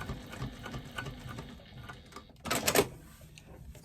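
Sewing machine stitching down the folded card slots of a wristlet, heard as a quiet, steady patter that swells into a louder, denser whirring burst near the end.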